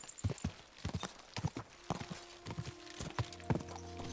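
A horse named Pebble trots and gallops in Kingdom Come: Deliverance 2, giving irregular clip-clop hoofbeats that are fairly close. A faint humming tone rises toward the end.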